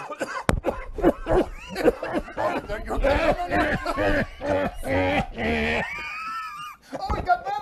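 A man fakes coughing and choking on a sports talk show, sputtering and groaning in loud, ragged bursts with voices and laughter around him.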